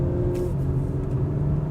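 Acura TLX Type S car driving on a tight back road, a steady near engine drone with low rumble throughout, no talk.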